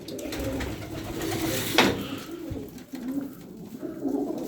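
Pigeons coo softly in low, rolling calls, with a brief flutter or scrape partway through and quiet ambient noise around them.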